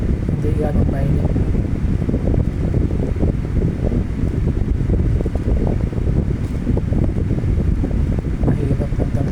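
Steady wind blows across a rooftop and buffets the microphone with constant loud rumbling gusts. It stays continuous throughout with no clear pauses.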